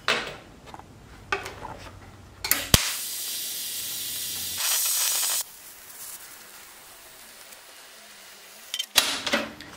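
TIG welding of steel ditch light brackets, producing a steady hissing buzz in a few bursts of a couple of seconds each, separated by quiet gaps and faint handling noises.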